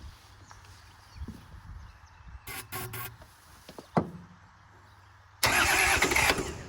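Kubota L285 tractor engine being cranked, with brief rough clattering of the starter, then a loud sustained burst of engine noise near the end.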